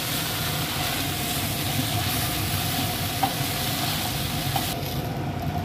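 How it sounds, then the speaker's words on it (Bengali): Rice for sweet jarda is stirred gently in hot ghee, a constant close sizzle with soft, rhythmic scraping of the spoon against the pot. "খুব আস্তে এটাকে নাড়তে হবে"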